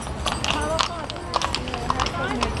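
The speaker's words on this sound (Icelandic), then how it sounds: "sjáðu hestana." Horses' hooves clop in a steady, overlapping rhythm on a street in Hafnarfjörður during a Christmas village event, moderately close, with people talking nearby.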